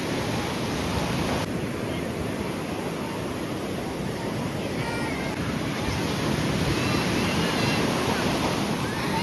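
High sea waves breaking on a beach, a continuous loud wash of surf with a windy roar over the whole stretch.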